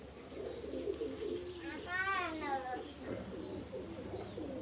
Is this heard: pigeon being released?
yes